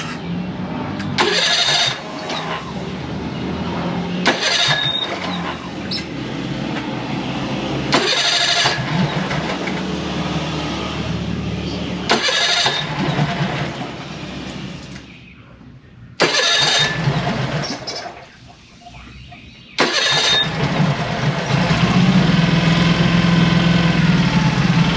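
A Mercury 25 hp four-stroke EFI outboard engine with a fuel-injection fault, loud and close, running in uneven bursts with repeated revs and brief drops, cutting out near the end before picking up again.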